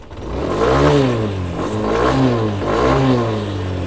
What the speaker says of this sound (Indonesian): jika kalian putar gas secara mendadak, tiba-tiba nih seperti yang gue lakukan saat ini